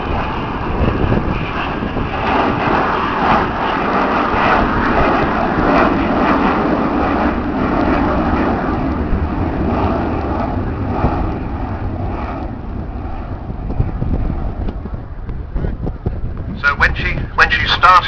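Avro Vulcan bomber at the Air Tattoo, a loud, steady jet engine roar with wind noise that holds for most of the stretch, then eases slightly toward the end while a commentator talks over it.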